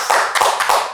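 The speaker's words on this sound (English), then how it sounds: "Everybody start clapping right now." A crowd applauds for a full second, the clapping dense and close with a couple of brief swells, at an event welcoming the rappers Do or Die.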